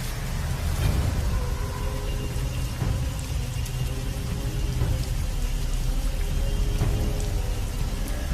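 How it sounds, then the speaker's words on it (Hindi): Heavy rain pouring steadily at night, a dense continuous wash of drops with a low rumbling undertone, constant and unbroken throughout with no voices. "बारिश अब और भी तेज होती जा रही थी।"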